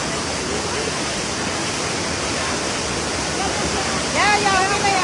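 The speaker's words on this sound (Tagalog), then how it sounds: "please enjoy the waterfall" Waterfall at Geiranger, Norway: a loud, continuous broadband rush of falling water fills the whole stretch, with a voice briefly heard over it near the end.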